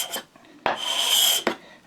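A flexed steel cabinet scraper takes fine shavings off a wooden workpiece, making short, bright rasping strokes with one long scrape in the middle, close and clear with no talk.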